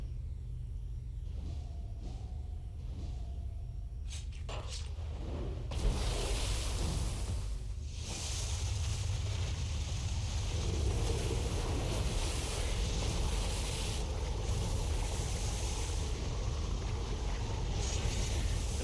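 A water jet power fires in City of Heroes as a continuous rushing, surf-like roar with a low rumble, steady and full throughout with a brief burst near the middle and no speech.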